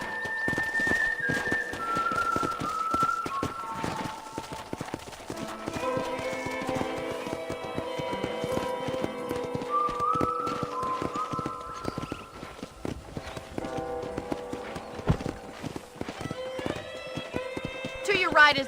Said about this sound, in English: I picked out a fine horse for you. Giddy up!